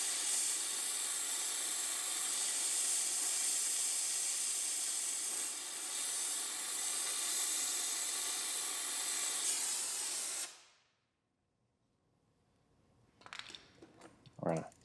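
A torch flame heats a stud on a Mustang GT under repair, giving a steady loud hiss for about ten seconds. The hiss then cuts out into near silence, followed by a few scattered clanks.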